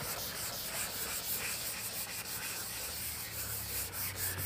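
Car body dent repair being sanded with 320 grit sandpaper, a steady close abrasive rubbing that continues without pause.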